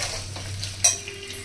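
Slices of raw banana frying in a pan for chips, a steady close sizzle of hot oil with a brief stirring clink partway through.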